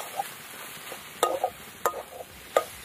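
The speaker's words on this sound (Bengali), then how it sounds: "ভাজা বাদাম দিলাম, দিয়ে এবার ভালো করে নেড়ে নেবো।" Vegetable cutlet mixture with fried peanuts is stirred in a pan, giving a few distinct scraping strokes at an uneven rhythm over a faint steady hiss.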